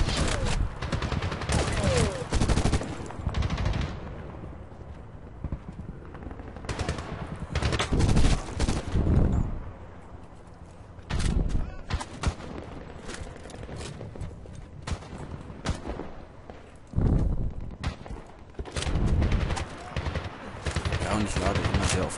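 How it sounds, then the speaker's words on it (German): Gunfire in a Medal of Honor video game, rapid bursts of machine-gun fire and single shots that come in loud clusters separated by brief lulls, running through the whole stretch. "weil ich auch viele Schüsse verbrauche. Also sehr viel Munition."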